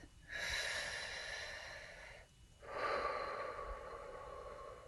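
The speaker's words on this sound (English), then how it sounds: "Take a deep breath." A person takes two deep, slow breaths close up, each a long airy inhale or exhale with a short pause between them, soft and calm with no talking.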